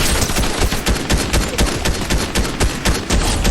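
Rapid automatic gunfire in the video game Fortnite during a solo match, a loud, sustained string of sharp shots in a fast, even rhythm, heard close with no talking over it.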